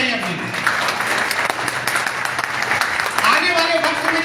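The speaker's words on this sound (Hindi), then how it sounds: "तो इसके लिए आप ताली बजाइए अपनी।" Seminar audience in Kaimur clapping together, a dense, fairly loud patter of hands with some voices and murmurs mixed in.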